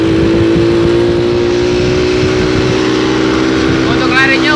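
A Honda Supra Fit motorcycle engine revs hard while being ridden, a loud, close, steady droning whine with a rising pitch, continuous throughout.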